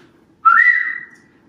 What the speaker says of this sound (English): gave a whistle